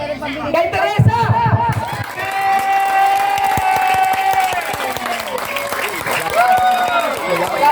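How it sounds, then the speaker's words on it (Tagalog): An audience claps for the singer Teresa at an anniversary gathering, loud sustained applause mixed with cheering and a voice shouting over the crowd. "doon kayo pumalakpak ng malakasan."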